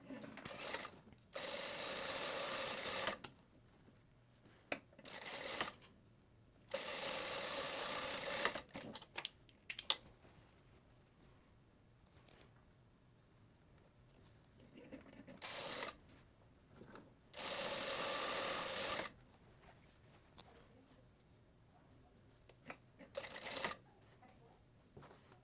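Sewing machine stitching a French seam on a blouse, a few quiet whirring runs of about two to four seconds each, separated by soft clicks and handling noises, fairly faint and with no talking.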